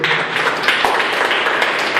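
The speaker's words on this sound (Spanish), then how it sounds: "Denle ese aplauso a Él." Church congregation applauding together, a steady dense wash of many hands clapping at close-to-mid distance for the full two seconds, with no voices on top.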